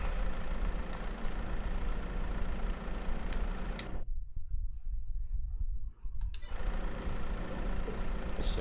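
A tractor engine idles in Farming Simulator 22, a steady low rumble that drops away for a couple of seconds midway before returning at the same level.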